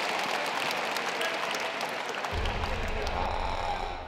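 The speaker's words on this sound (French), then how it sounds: "On l'applaudit" A crowd of teenagers at a self-defence training session applauds a student, steady dense clapping filling the whole stretch with a low rumble of room noise joining partway through.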